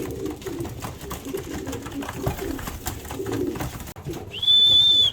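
Racing pigeons coo softly and steadily over a low rumble of movement, with a brief faint dip near the end before a sharp, loud high whistle-like tone takes over the last second.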